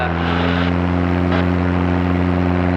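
A Zenith CH 750 Cruzer light airplane engine runs at full power for takeoff, a loud, steady propeller drone with a strong tonal hum heard from inside the cockpit, with no pauses.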